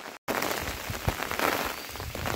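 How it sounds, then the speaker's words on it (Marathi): Steady rain falls on a forested mountaintop during the monsoon, a dense, continuous patter of drops on leaves and surfaces, close and even, broken only by a brief dropout near the start. "आता आपल्याला पाऊस पण भेटला आहे"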